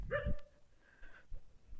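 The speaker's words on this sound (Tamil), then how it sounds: "இந்த நாய் நம்மளை பார்த்து குலைச்சிட்டே இருக்குங்க பாருங்கள்" Near a village temple, a dog barks at visitors with a couple of faint, somewhat distant yaps separated by a pause, plus soft rustling and no speech.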